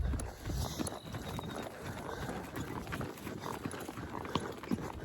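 Hooves clip-clop steadily on the ground close by, mixed with continuous rustling and low rumbling noise; no talking.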